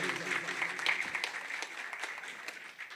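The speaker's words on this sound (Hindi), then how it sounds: "प्लीज एक बार उनके लिए हाथ तो जरा तालियां बजनी चाहिए" An audience at an album launch event applauds, a continuous crowd of clapping hands at moderate distance, fairly even throughout and easing slightly at the end.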